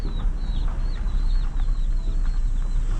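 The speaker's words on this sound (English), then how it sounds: "look at the chicken" Chickens cluck repeatedly outdoors on an early morning in Jamaica, with short, near calls over a constant background hum.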